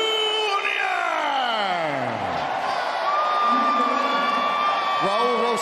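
A packed arena crowd roars and whoops after a UFC fight in the octagon at UFC Louisville, a loud, sustained wash of cheering with an announcer's voice riding over it.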